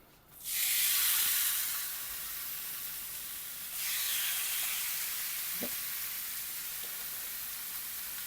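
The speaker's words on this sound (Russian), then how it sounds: "И наши стейчки, посмотрите, обжариваются еще пару минут с одной стороны." Beef steak frying in a hot pan, a loud steady hiss and sizzle that flares up, eases, then swells again and keeps going with no speech.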